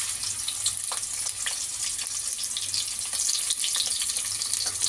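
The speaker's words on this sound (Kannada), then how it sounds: "ಒಂದು 30 ಸೆಕೆಂಡು ಫ್ರೈ ಮಾಡ್ಕೊಳ್ಳೋಣ ಆಯಿಲಲ್ಲಿ" Sliced onion frying in oil for an egg donne biryani, a steady high hiss with scattered crackles and pops from the pan, close and fairly even throughout with no talk.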